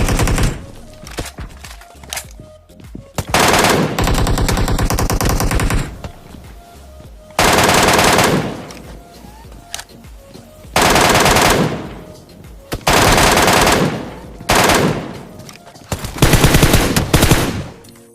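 A fully automatic rifle fires in long, loud bursts in PUBG Mobile. The rapid bursts last a second or more each and are separated by short quiet gaps.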